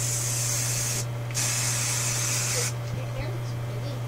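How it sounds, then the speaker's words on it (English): Hairspray sprayed on hair from an aerosol can, two bright hissing bursts, the second longer, over a steady low hum with faint voices around. "Olivia, can you come here and give Nana the hairspray?"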